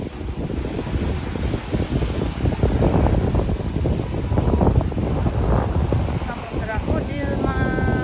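Strong wind buffeting the microphone on an ocean shore at Montauk, gusting low rumbles and roaring surges with a faint wash of surf beneath and a voice briefly audible.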